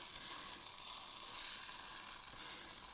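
Steady, soft sizzling of batter cooking in a hot pan, an even hiss with faint crackles and no voices.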